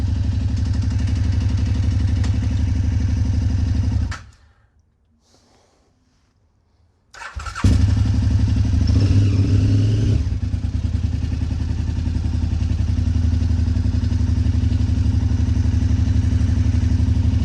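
A KTM 990 Adventure motorcycle engine idles loudly and steadily, cuts out for a few seconds, then restarts and keeps running with a brief clunky rise as it is put into gear.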